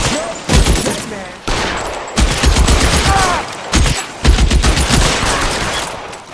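Bursts of rapid gunfire in the video game L.A. Noire, several loud volleys of shots in close succession with brief pauses between them.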